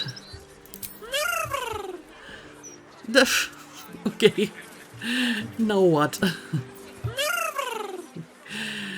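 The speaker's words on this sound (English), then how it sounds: "And now this cat thinks I'm his mother." Cat meowing in the video game Baldur's Gate 3, several drawn-out rising and falling meows repeating through the stretch, close and clear, with someone talking briefly between them.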